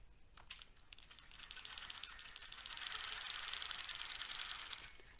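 A longarm quilting machine runs a ruler foot around one circle, giving a faint, rapid, even mechanical stitching chatter that swells slightly midway and keeps going throughout.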